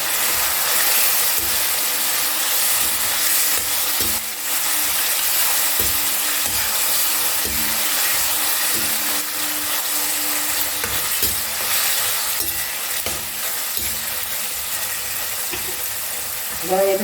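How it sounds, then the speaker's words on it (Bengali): Mixed sauces being stirred into frying egg chilli in a hot pan, with steady sizzling and scraping throughout and the spoon's clatter heard now and then. "এবার আমি যে সসগুলো গুলে রেখেছিলাম সেই সসগুলো সব আমি দিয়ে দিচ্ছি এর মধ্যে। নাড়াচাড়া করে নেব।"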